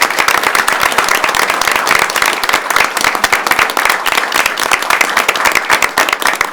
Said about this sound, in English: I'd like to have a huge round of applause for the state championship Belvidere bowling team.